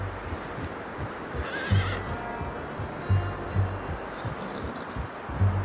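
A horse in the Red Dead Redemption 2 game whinnies and snorts in repeated bursts while its hooves clop steadily nearby, fairly loud.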